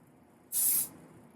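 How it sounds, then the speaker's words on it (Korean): One short, loud hiss of gas-type hairspray sprayed into the inner layers of a man's hair, lasting under half a second with nothing else around it. "가스형 스프레이를 쏴주는 이유는 안쪽 머리에 가스형 스프레이가 침투했을 때 더 오래 볼륨을 살릴 수 있기 때문이고요"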